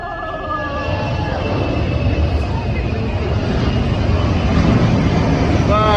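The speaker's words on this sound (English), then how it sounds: "an RAAF C-17 zooms between skyscrapers in Brisbane, Australia" A Royal Australian Air Force C-17 transport jet roars low between Brisbane skyscrapers during the Riverfire festival flyby, a loud, steadily building engine drone that fills the whole stretch, with voices of onlookers underneath.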